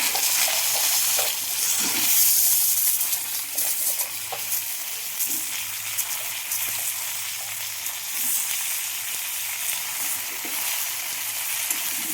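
Pieces of papaya and potato go into a hot frying pan, giving a loud, steady sizzle with occasional stirring scrapes that runs unbroken throughout, and nobody speaks.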